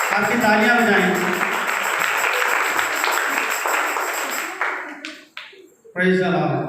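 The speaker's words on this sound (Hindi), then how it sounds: "आपकी तालियां बजाएं।" Audience applause at a one-day church seminar, sustained clapping filling the first four and a half seconds and then thinning into a few scattered claps before a voice resumes.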